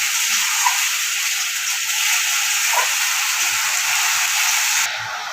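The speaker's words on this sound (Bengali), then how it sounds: "তেলে আমি মশলাটা দিয়ে দিয়েছি।" Ground spice paste dropped into hot oil for a Bengali doi potol (pointed gourd in yogurt) dish, giving a steady loud hiss and sizzle that runs nearly throughout before quieting abruptly near the end.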